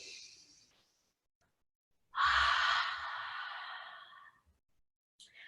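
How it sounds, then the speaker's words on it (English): A long, open-mouthed breath pushed out steadily during an intermediate yoga flow, the soft 'haa' of fogging a mirror. It follows a shorter, quieter breath and pause, heard close and alone. "I want you to breathe like you're fogging up a mirror"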